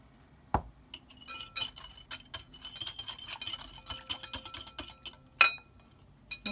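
Mustard, salt, balsamic vinegar and olive oil being whisked together with a utensil in a bowl, quick scraping and tapping strokes with small clinks, close and fairly quiet, preceded by a single knock.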